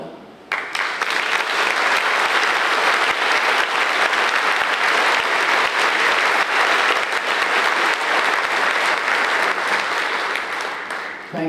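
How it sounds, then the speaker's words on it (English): An audience applauding medalists at a ceremony, a dense, loud, sustained round of clapping that starts abruptly and carries on for more than ten seconds. "Ladies and gentlemen, our medalists, they have all answered that call, and for that, we proudly applaud them."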